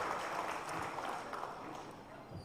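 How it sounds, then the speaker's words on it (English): Audience applause for awardees at a group channel meetup award ceremony, a steady dense wash of clapping lasting throughout with a mix of crowd voices underneath. "give a huge round of applause for all the awardees over here"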